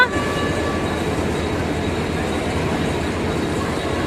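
A train rumbles steadily nearby at Nerul railway station, a continuous loud roar of wheels and carriages with faint tonal squeals on top.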